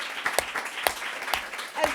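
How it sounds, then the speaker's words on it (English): An audience applauds at a memorial celebration of a writer's life, several sharp claps standing out above a scattered crowd patter, brief and moderately close. "Can we have a round of applause for Louise's children?"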